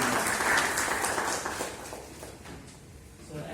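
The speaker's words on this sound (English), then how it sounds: "So a round of applause for our presenter." An audience at a conference paper session at BUET in Dhaka applauds a presenter, a full burst of clapping that tapers off toward the end over a faint room murmur.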